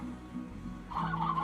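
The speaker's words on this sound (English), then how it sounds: "I saw fucking chickens!" Chickens cluck in the video game Slime Rancher, a few soft calls at first, then a louder, more continuous burst of clucking in the second half, with no talk over them.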